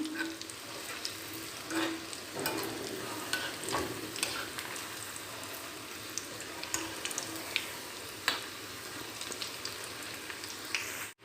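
Pakoda batter deep frying in hot oil, a continuous bubbling sizzle with scattered crackles and occasional stirring clinks, fairly quiet and close, no voices.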